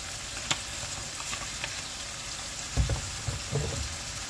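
Fresh garlic and onions sauté in a pan for lasagna sauce, making a soft, steady sizzle with a few faint stirring knocks, quiet and with no one talking.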